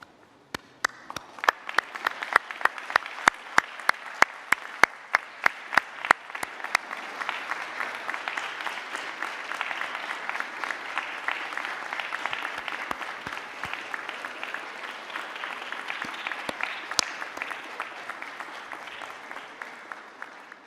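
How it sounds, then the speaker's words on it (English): Graduates at a Liverpool University graduation ceremony applaud their families and friends, sustained crowd clapping in a large hall with sharp close claps standing out early, building to a steady, even roar that holds for the full stretch. "can I ask you to stand and turn and face your family and friends and applaud them?"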